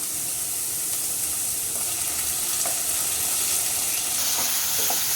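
Cooked jackfruit seeds and snake gourd sizzle steadily in a pan for Kerala-style olan, with a bright, continuous hiss and a few faint stirring clinks throughout.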